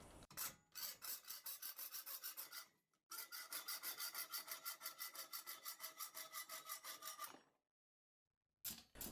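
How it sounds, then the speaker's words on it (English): A hacksaw with its blade reversed to cut on the pull stroke makes quiet, rhythmic rasping strokes in two long steady runs with a short pause between, each stroke close and even. "I found it hard to push the hacksaw, so I reversed the blade and made it cut on the pull stroke"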